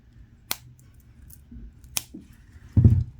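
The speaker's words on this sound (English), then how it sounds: "I'm going to cut the cord that's holding all the beads." Two crisp scissor snips about a second and a half apart cut through a bracelet's bead-stringing cord, close and clear in a quiet room, followed by a soft clatter of loose beads.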